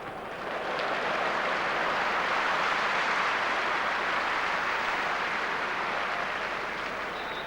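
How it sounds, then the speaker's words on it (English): A football crowd applauding at a 1994 Premier League match against Swindon Town, a steady broad wash of clapping that swells in and holds evenly, with no voices standing out. "Elliott really getting applause every time he makes one of these well-timed tackles"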